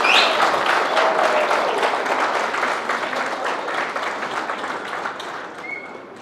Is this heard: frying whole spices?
no